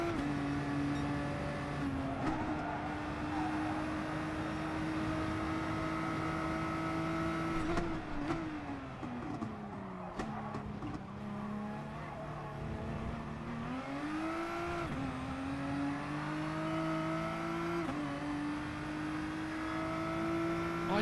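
Racing cars in a racing video game roar through an overtake, engines revving and shifting pitch steadily over about twenty seconds, with brief tire squeal along the way; no one speaks.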